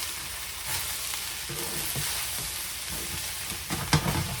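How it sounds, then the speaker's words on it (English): Pineapple fried rice sizzling in a hot pan, a continuous frying hiss with scraping, shuffling stirs and a couple of louder knocks toward the end, close up and without speech. "So now we just want to kind of stir it around"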